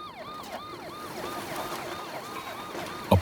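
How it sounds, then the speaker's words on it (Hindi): A police car siren wails in a steady, repeating up-and-down sweep, heard at moderate distance over a constant background hum, ending with a sharp thump. "कुछ ही देर बाद उसे दूर से पुलिस की गाड़ी की सायरन की आवाज सुनाई दी।"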